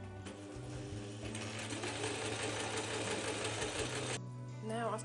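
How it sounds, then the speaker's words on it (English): A sewing machine running a straight stitch along a skirt lining, a loud continuous motor hum with rapid needle chatter that stops near the end, and a voice talks faintly over it. "now I'm going to do a straightforward running stitch all the way up"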